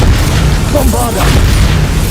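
A Bombarda blasting spell goes off in Hogwarts Legacy, a dense, loud boom that swells and rumbles for about two seconds under a player's voice.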